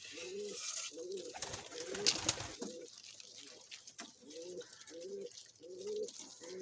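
Pigeons being fed paddy and water coo in repeated throaty bursts, rising and falling in a steady rhythm, with a brief clatter midway; moderately close and fairly quiet.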